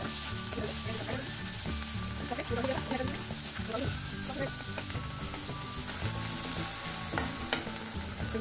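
Onion frying with ginger garlic paste, a continuous close sizzle with scraping and stirring clatter throughout, while someone speaks over it.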